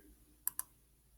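Two quick, quiet computer mouse clicks about a tenth of a second apart while continuing through an online EIN application form, with faint background hiss and no talking.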